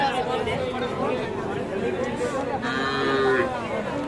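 Young bulls and heifer calves low at the Aftabganj cattle market amid a busy crowd, with a drawn-out moo rising over steady chatter and nearby talking.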